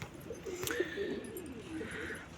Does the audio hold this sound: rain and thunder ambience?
no